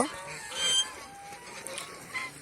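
A nesting domestic goose honking a couple of times, short faint calls close by over quiet background noise.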